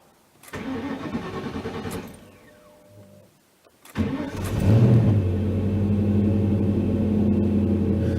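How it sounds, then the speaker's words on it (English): A fuel-injected classic car, taken out of storage, cranks with a brief whir, falls quiet, then cranks again and catches, settling into a steady, loud idle close by. "I usually cycle the fuel injection twice, just because it could be dry we'll see how it starts here."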